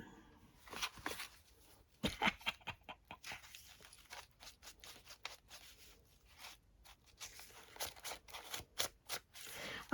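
Scissors snip through old recipe book pages being cut out for a journal, with a run of quick close crisp cuts and paper rustles, some short pauses, and a few louder bursts in the middle.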